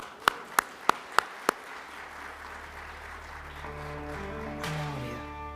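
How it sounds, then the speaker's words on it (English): Audience applause at a business competition finals as the first finalists are introduced, starting with a few sharp, separate claps and then building into steady, moderately distant clapping with a faint tonal hum underneath. "sure, round of applause."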